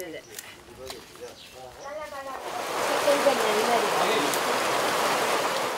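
A sudden rain shower in Kateraké village sweeps in as a broad hiss that swells and holds steady, following a stretch of speech at the start.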